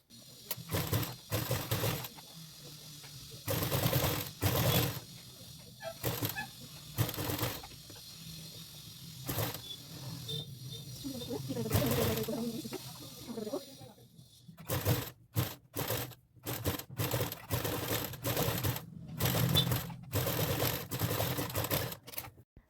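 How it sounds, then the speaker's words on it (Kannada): A sewing machine stitches along the lining edge of a work blouse in short, repeated bursts separated by pauses, close and moderately loud, with a voice talking in between. "ಈಗ ಲೈನಿಂಗ್ ಎಡ್ಜಲ್ಲಿ ಸ್ಟಿಚಿಂಗ್ನ ಹಾಕೋತಾ ಬರಬೇಕಾಗತ್ತೆ ಈ ರೀತಿಯಾಗಿ"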